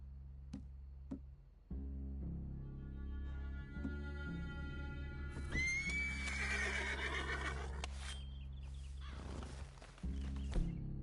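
A horse neighs in the video game Red Dead, a loud whinny rising and wavering over a steady low game backdrop, with a few short clicks and knocks around it and no speech.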